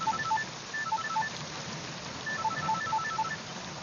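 Touch-tone beeps from a mobile phone keypad being dialed in two quick bursts of short tones, with a steady wash of heavy rain behind.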